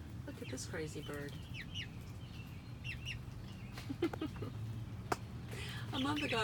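Backyard chickens cluck in short, scattered bursts, close and clear, during a dust bath, with a few higher calls and someone talking softly between and over the clucks.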